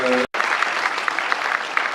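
Audience applause at the African Awards 2019 gala in Brussels, a brief voice cut off at the start, then steady dense clapping with occasional louder claps.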